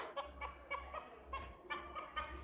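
A rooster on a small farm where sheep and chickens are kept, giving repeated clucking calls at a moderate distance, several bursts spaced through the moment with no speech over them.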